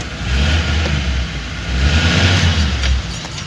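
Car traffic in the Kotkhai bazaar: a nearby engine rumbles loudly and revs in two surges, with a hazy mix of street noise behind it and no speech.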